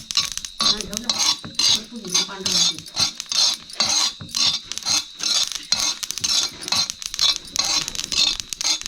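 Sesame seeds being dry-roasted in a pan, with rapid rhythmic scraping and clinking of a utensil stirring them, close and fairly loud throughout.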